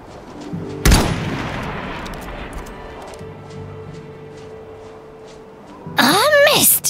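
A sharp rifle shot in the video game Iron Harvest rings out, followed by a long decaying echo and ambient hum, then a burst of louder game sound effects near the end.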